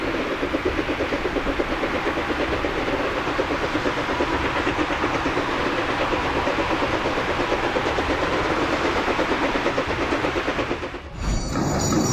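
A train rolls steadily along a railway line, loud and close, with a continuous rumble and rhythmic clickety-clack of wheels over rail joints that ends abruptly near the finish.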